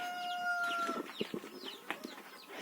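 Chickens and guinea fowl on a rural farmyard, with a few clucks and calls and short bursts of cackling scattered through, fairly close, with no voices.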